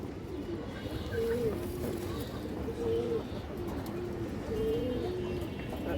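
Lively pigeons coo in repeated low, rolling phrases over a steady background hum, several calls spaced about every second or two, close and clear with no talking.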